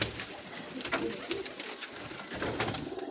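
A pair of Ferozpuria pigeons coo softly at a pigeon club amid constant bird chatter, with faint background noise.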